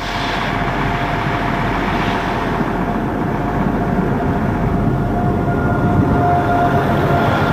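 A Merseyrail train pulls into a station, a steady broad rumble of wheels and motors holding at a constant loud level throughout, with a faint sustained tone riding above the low roar and no voices.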